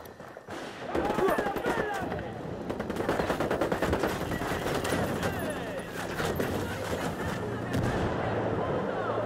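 Dense automatic gunfire from a firefight in the video game Ghost Recon Wildlands, rapid overlapping shots and bursts filling the whole stretch with a voice talking underneath.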